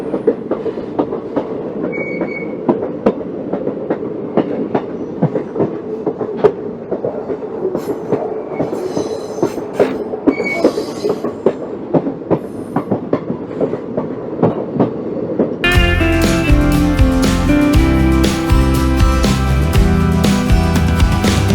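A passenger train on the Kollam to Chenkottai route rumbles steadily with a rhythmic clickety-clack of wheels, close and continuous, growing louder and denser near the end.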